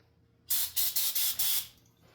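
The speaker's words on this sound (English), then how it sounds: "I like to take me some brake clean." Brake cleaner sprayed from an aerosol can onto a Mikuni carburetor in five close, loud hissing bursts, each lasting about a quarter second, in a quiet workshop.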